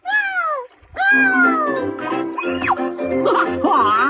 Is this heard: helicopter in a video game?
no